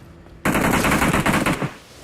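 Rapid automatic gunfire from a mobile battle royale shooter rattles loud and close in one sustained burst of about a second, then trails off, with no talk over it.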